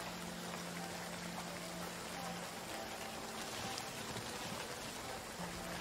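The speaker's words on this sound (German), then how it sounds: "Aber der Regen hat uns noch nichts an." Steady rainfall in a survival video game, a constant even hiss of drops with a low hum underneath, continuous throughout at moderate level.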